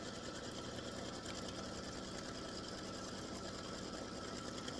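An embroidery sewing machine stitching a placement line for a patriotic baseball bat and stars appliqué block, a steady fast mechanical whir and chatter running continuously and fairly quiet.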